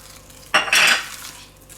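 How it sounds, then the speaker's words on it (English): Fried onion tipped into mixed spices in a pan and stirred for fish ball curry, a short scraping, sizzling burst of utensil against pan, close and loud, then fading back to quiet. "at this point I'm going to add about 3/4 of a cup of this fried onion to it,"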